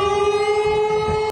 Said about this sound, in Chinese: 俄罗斯边境地区警报响起